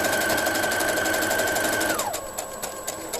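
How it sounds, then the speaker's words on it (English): A sewing machine stitches the edges of gown fabric, running in a fast, steady, close mechanical whir that slows and winds down near the end, followed by a few lighter clicks, with no talking. "I'm going to back stitch a couple times, then sew off."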